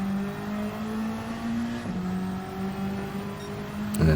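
A Toyota Supra GT500 race car accelerates on Trial Mountain Circuit in a racing video game, its steady engine drone rising, dropping briefly at a gear change, then climbing again with a short sharper burst at the end.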